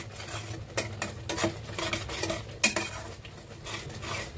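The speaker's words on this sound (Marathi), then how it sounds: "तेल सुटेपर्यंत ना याला आपण मस्त असं भाजून घेऊया." Turmeric and coriander powder roasting in oil, soft sizzling under repeated clinks and scrapes of a spoon against the pan, fairly quiet with one sharper knock midway.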